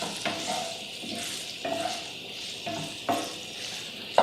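Sausage sizzles steadily in a frying pan, a continuous close hiss broken every second or so by soft scraping and stirring sounds, with a small clink near the end.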